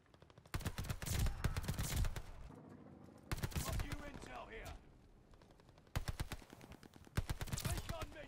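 An Owen Gun submachine gun fires in Call of Duty: Vanguard in three loud, rapid full-auto bursts, separated by quieter stretches of game ambience and distant noise.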